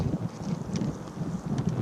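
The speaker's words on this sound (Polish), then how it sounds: "zobaczcie jak wieje mocno" Strong wind gusting across an exposed hilltop in Lublin, a steady low roar buffeting the microphone, loud and continuous throughout with no one talking.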